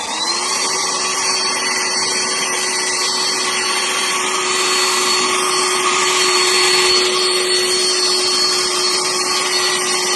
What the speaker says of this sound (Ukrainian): Але я її вмикаю, включаю турбо.